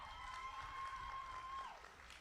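Audience applause and cheering at a 2021 high school senior awards ceremony, greeting a scholarship winner; a steady, fairly quiet wash of clapping from a crowd that fills the whole moment, with a sustained tone running through it.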